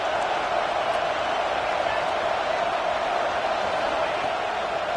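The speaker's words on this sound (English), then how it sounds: "This crowd bringing the energy and noise early" Continuous broad crowd roar in the football video game NCAA 26, a steady wash of distant cheering and murmur at an even level for the whole stretch.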